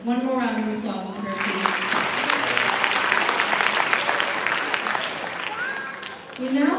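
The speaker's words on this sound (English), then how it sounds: "One more round of applause for her" An audience claps for a Bharatanatyam dancer at her arangetram, a full room of steady applause that swells and holds for several seconds, with a voice speaking over it at the start and again at the end.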